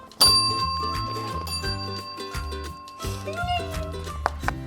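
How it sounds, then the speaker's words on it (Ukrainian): A tabletop card game's call bell is struck once with a bright metallic ding that rings out over a light musical backing, followed later by a softer second tap. "має натиснути на цей дзвоник"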